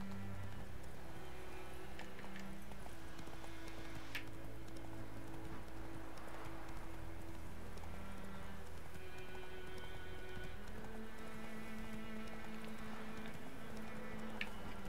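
Roach, the horse in Witcher 3, trotting with a steady clip-clop of hooves, rhythmic and fairly quiet, continuing throughout over faint background game ambience.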